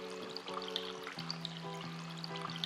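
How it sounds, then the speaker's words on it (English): Water poured into a bowl of dry glass noodles (bean vermicelli), a soft, continuous trickling and splashing close by, with small bubbly gurgles throughout. "I will put them in a bowl and pour water into it."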